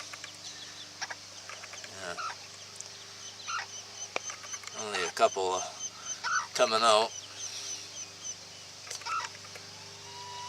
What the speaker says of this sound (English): now she's got 6 little Benson chicks under her